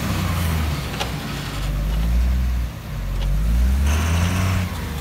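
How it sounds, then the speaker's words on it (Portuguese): A truck engine revs and accelerates on the road, a loud low rumble that rises and falls in two surges with a brief dip between, heard from inside the cab. "O caminhão tem força, não precisa ficar acelerando tanto."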